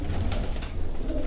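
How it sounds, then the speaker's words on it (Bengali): Rajshahi Giribaz pigeons kept in a loft coo in a dense, continuous low murmur, several birds overlapping at close range with no talk. "দেখেন সব পিলং পিলং কবুতর"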